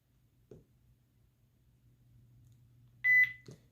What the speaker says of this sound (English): So you hear the beep.